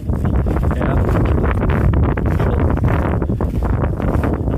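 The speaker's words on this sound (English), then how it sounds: "it's not that cold of a day, it's just the wind" Strong wind buffets the microphone in a steady, loud roar among trees beside a road in a stalled subdivision, with gusty rumbling throughout and no pauses.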